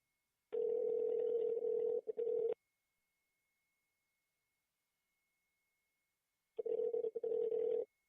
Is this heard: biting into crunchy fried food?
no